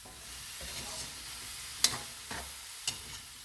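Squash being stirred and sautéed in a frying pan for a vegetable dish with blue marlin, a soft steady sizzle with a few brief scraping clicks of the utensil against the pan, close and alone.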